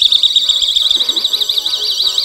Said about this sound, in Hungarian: Hát ez egy személyi riasztó egyébként